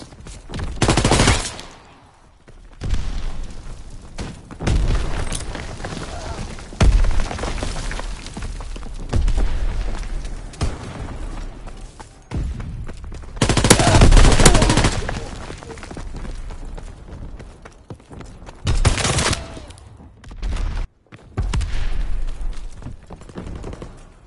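Suppressing gunfire in a video game, long sustained bursts of automatic fire and booms rising and falling in waves, loud and close with short gaps between volleys.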